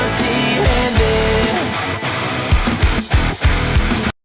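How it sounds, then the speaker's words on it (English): Heavily distorted, low-tuned rock electric guitar riffs, loud and dense, chugging with punchy palm-muted hits before cutting off abruptly at the end. "the guitars are super low tune. They're really distorted"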